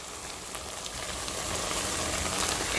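Okra (bhindi) frying in a pan for a hotel-style bendakaya fry, a steady soft sizzle with light crackles that grows slightly louder over a few seconds, close and without talk.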